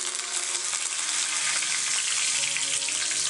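Cumin, mustard seeds, two dried red chillies, urad dal and curry leaves crackle and sizzle steadily in hot oil for a tempering, a dense continuous frying hiss with no talk.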